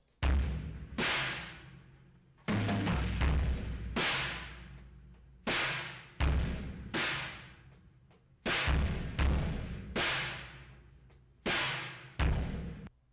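Drums play a slow pattern through a heavy distortion pedal, each hit exploding into a crunchy, saturated blast that sustains before the next.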